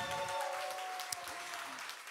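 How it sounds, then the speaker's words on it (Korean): An audience at an indoor union event with a live music performance gives steady, even applause for the sound crew, soft and fairly distant, holding for the whole stretch. "트루 오디오 동지들께도 박수 부탁드립니다."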